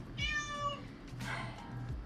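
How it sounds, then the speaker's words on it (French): A cat meows twice nearby, each call clear and drawn out, with a short quiet gap between them and nobody talking. "Et là, j'ai un chat qui colle."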